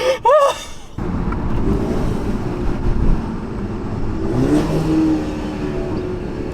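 A tuned Stage 2 BMW 330 engine revs hard with a crackling exhaust burble, a sharp rev flare at the start settling into a steady rumbling idle with a second smaller rise midway.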